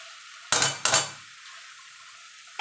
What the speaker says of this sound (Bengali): এবার যে মোচাটা আমি সিদ্ধ করে রেখেছিলাম সেটা দিয়ে দেবো।